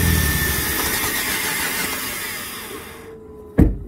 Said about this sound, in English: So it's just spinning and overheating the starter to the point where it was starting to smoke.